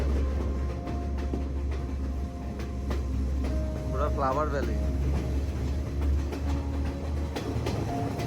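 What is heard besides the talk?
Sri Lankan train running through clouds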